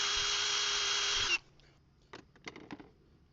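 A power drill whines steadily at close range for just over a second while drilling screw holes through a wooden template, then cuts off, followed by a few quiet clicks and knocks.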